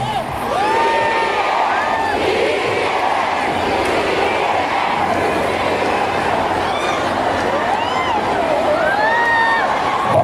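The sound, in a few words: crowd applauding and cheering at a campaign rally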